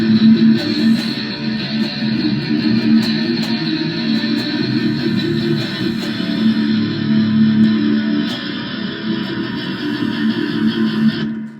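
Distorted electric guitar played through a Rockman XP100, heard as a dense, continuous wall of saturated chords with strong mids and a heavy low end, loud and steady throughout with no talking.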